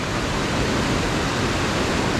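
Waterfall at Ebor in the New England region, a dense, unbroken roar of falling water, loud and close with no pauses or voices.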